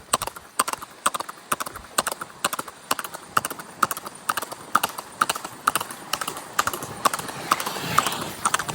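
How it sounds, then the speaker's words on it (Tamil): A horse pulling a cart at speed clip-clops on the road, with rapid, evenly spaced hoofbeats that stay loud and close for the whole stretch over faint rolling noise. "ஃபஸ்ட் டைம் குதிரை வண்டியில் போகிறேங்க."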